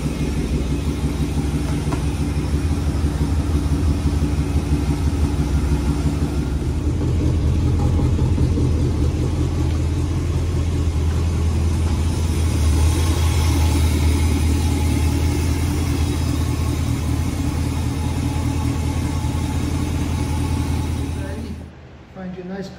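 A John Deere S240 lawn tractor engine running steadily after being cranked with a dry fuel filter, a loud close rumbling idle that rises slightly midway and cuts off near the end, with talking over it.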